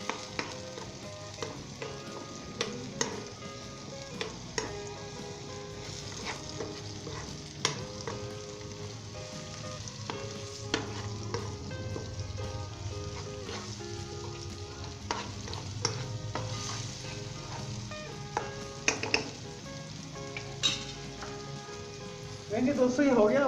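Salt, cumin, crushed red chilli, turmeric and ground cinnamon are stirred into sizzling masala for a dry potato and pea dish. A spoon scrapes and clinks repeatedly in the pan over a steady frying hiss, with quiet talk now and then.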